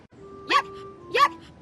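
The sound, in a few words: puppy barking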